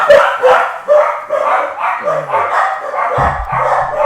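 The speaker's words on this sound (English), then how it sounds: "And now my dogs are barking." Dogs barking at home, several loud close yips and woofs in quick bursts with a few howl-like whines, heard alone without talk.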